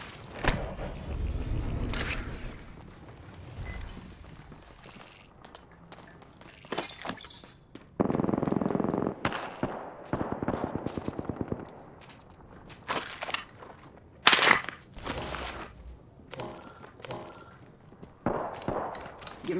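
Gunfire in the video game Apex Legends, played on a laptop with a GeForce GTX 1660 Ti: bursts of rapid shots and sharp cracks come in clusters between quieter stretches, with shattering impacts and game voice callouts mixed in.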